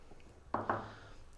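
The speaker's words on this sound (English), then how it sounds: "In goes the soy." Soy sauce pours into a pan of pork adobo with vinegar and sugar, giving a short close liquid splash and a brief pouring rush that fades out within about a second.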